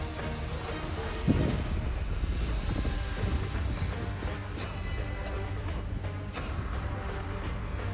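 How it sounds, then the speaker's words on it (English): Wind buffets the microphone outdoors during a backyard game competition, a steady loud rumbling roar that fills the whole stretch, with faint thumps and no clear talking. "the wind just blew it off"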